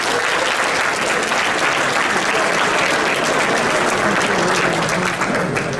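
A chapter awards ceremony fills with loud, dense applause from a large audience. The clapping holds steady and continuous the whole time with no break.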